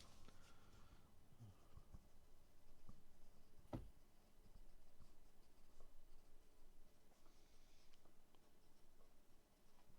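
Pencil scratching across paper in steady strokes, close and fairly quiet, with a sharp tap near the middle and faint room noise throughout.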